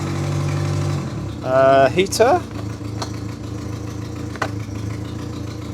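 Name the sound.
Renault 6 engine revving and idling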